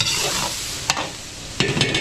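Garlic and onion sauté in hot oil for laing, a loud close sizzle with sharp scraping stirs of a spatula against the pan at intervals.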